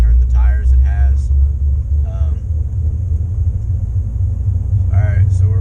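Heavy low rumble of road and tire noise from a Jeep rolling on worn Cooper STT Pro mud-terrain tires with about 20k miles, steady and loud inside the cabin while someone talks briefly over it.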